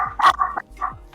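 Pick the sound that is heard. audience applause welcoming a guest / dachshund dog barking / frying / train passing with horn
dachshund dog barking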